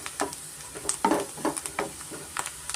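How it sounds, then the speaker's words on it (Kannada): Onions and curry leaves fry in a pan for garlic chicken, giving a steady close sizzle with scattered crackles and light stirring scrapes, with no voices. "ಸ್ವಲ್ಪ ಕರಿಬೇವು ಈರುಳ್ಳಿ ಸ್ವಲ್ಪ ನೋಡಿ ಈ ಥರ ಫ್ರೈ ಆದರೆ ನಮಗೆ ಸಾಕಾಗುತ್ತೆ"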